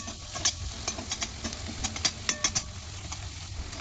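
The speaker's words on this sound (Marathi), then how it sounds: "आता त्या कांद्यामध्ये मी ती पेस्ट टाकून घेत आहे आणि व्यवस्थित मिक्स करून घेत आहे मी त्याला" Garlic paste is stirred into onions in a pan, a quiet run of soft scraping, ticking and pattering spoon strokes over a faint sizzle, close and irregular, with no voices.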